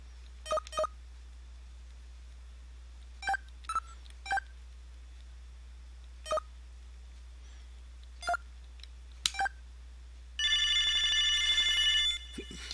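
Telephone dialing in the Sega CD video game Snatcher: a series of two-tone DTMF keypad beeps in irregular taps, followed by an electronic phone ringing tone, clean with no talking.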